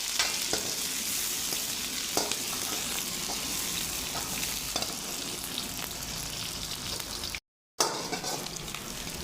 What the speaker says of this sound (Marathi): कांदा चांगला लाल होईपर्यंत भाजून घ्यायचा एकदम फ्राय केल्यासारखा लाल व्हायला पाहिजे